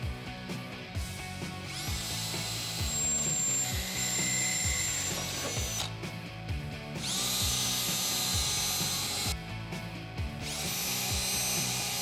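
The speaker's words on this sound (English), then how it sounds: "Now I'm going to start with a 5/16 inch drill bit, step up to a 3/8 inch drill bit" A power drill with a 5/16 inch bit bores holes into the body of a Jeep Wrangler JK, whirring in repeated bursts with ratcheting clicks and rising spin-up whines, up close.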